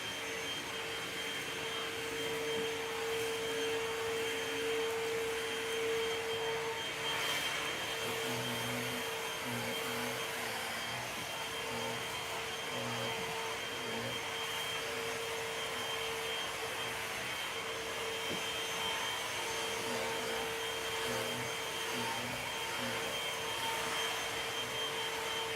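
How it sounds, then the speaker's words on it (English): A vacuum cleaner sucks up spilled rice and dirt indoors, a steady loud whine running continuously with intermittent low rattling bursts as debris passes through the hose. "It sounds like it's sucking up a lot of dirt."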